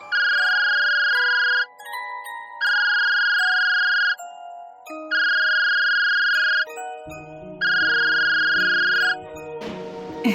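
A phone rings repeatedly and goes unanswered, its electronic tone repeating in steady bursts with short gaps, loud and close, before a low rumble enters near the end.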